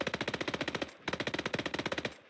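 A PPD-40 submachine gun fires in the game Call to Arms Gates of Hell: two long, very rapid bursts, close and loud, each a fast even rattle of shots with a short gap between them.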